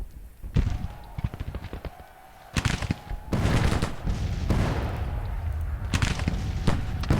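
Artillery booming in the Civil War strategy game Grand Tactician, with heavy, rumbling cannon blasts and crackling volleys that overlap into a sustained roar of battle, loud and close, with a brief lull early on.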